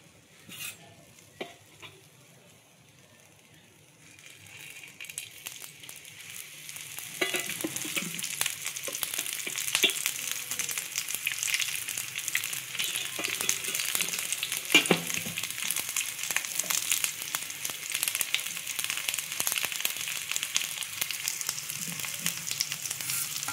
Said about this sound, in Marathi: ते पण टाकून घेऊया आपण आणि असं आपण त्याला परतून घेऊया